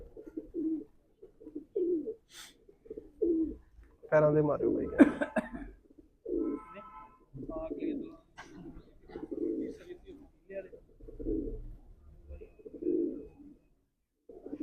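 Cheena pigeons coo in a steady series of low, throaty calls, close by, with someone speaking and a brief cough among them.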